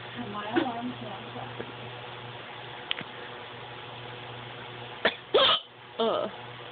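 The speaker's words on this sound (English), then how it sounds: "I have the hiccups." A few sharp, abrupt hiccup-like catches in the throat, spaced irregularly over a quiet background, with a couple of louder bursts near the end.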